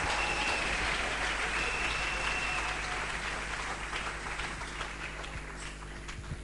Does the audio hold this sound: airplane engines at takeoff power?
no